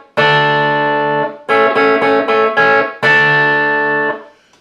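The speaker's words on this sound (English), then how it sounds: "what you're going to hear is him plucking on the 3rd and 2nd" Electric guitar repeatedly plucks notes on the 3rd and 2nd strings, a held double-stop picked in short, even bursts with brief gaps between groups, loud and clear with no talking.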